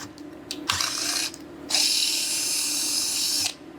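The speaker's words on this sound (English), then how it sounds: "now we're going to follow it up with a 3/8 drill bit." A power drill runs a 3/8 drill bit into a Harley Ventilator air cleaner backing plate for an external breather exit hole, whirring in two bursts: a short run, a brief stop, then a longer steady drilling pass that cuts off sharply.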